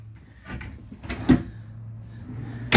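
A few soft wooden thuds and slides, a deep drawer in a travel trailer being pulled open and pushed shut, ending with a firmer close.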